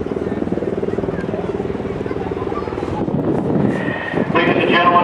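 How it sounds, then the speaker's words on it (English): A Black Hawk helicopter approaches over a channel during a special operations exercise in Tampa, Florida, its rhythmic rotor thumping and engine drone growing steadily louder, with crowd and other noise layered in near the end. "you will shortly see another Black Hawk helicopter approaching the channel"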